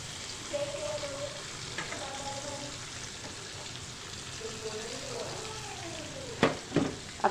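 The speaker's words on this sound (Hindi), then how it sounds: "हम ये साइड चेंज करके अब फ्राई करेंगे" Chicken tenders turning over in hot oil in a pan give a steady, moderate sizzle, with a few sharp clatters and scrapes near the end as the pieces are moved.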